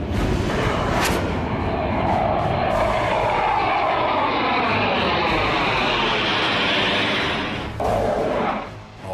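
Indian Air Force fighter jets roar low over the Purvanchal Expressway air strip during a touch-and-go show, a loud, continuous engine blast with sweeping pitch as the aircraft pass close overhead, easing slightly at the end.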